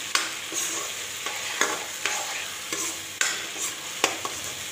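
A paste of poppy seed, ginger and garlic fries in a pan while being stirred, a soft steady sizzle punctuated by regular scraping strokes of a utensil against the pan, close and fairly quiet.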